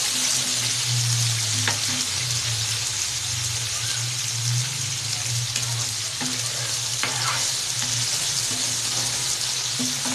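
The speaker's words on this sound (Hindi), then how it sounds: "हल्की आग में इसको फ्राई करना ताकि गल जाए।" Chicken pieces fry on low heat for a chicken sandwich, giving a continuous close sizzle with a low steady hum and occasional stirring clinks, no voices.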